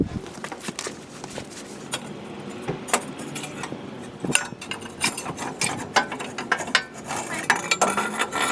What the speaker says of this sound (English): Then I have this adapter that goes to this 1/2-inch socket wrench.